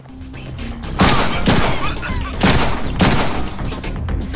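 Rapid gunfire from a Deadpool video game, several loud bursts of shots at about one-second intervals over steady game noise, with no speech.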